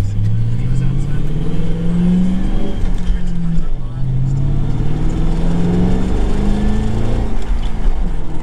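Ford Crown Victoria with a manual five-speed on a test drive, engine droning steadily from inside the car with rising and falling pitch as it accelerates and shifts, loud and continuous throughout.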